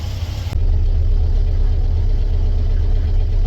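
Stock 1958 VW Beetle engine running steadily after revival work, a loud, continuous low idle rumble with even texture throughout, no voices.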